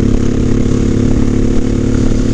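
A Honda 1100 Sabre cruiser motorcycle revs hard while riding in gear, its engine drone loud, close and steady throughout.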